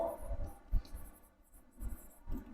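Pen writing on paper, soft scratchy strokes coming in short bursts, quiet and close, with pauses between the strokes.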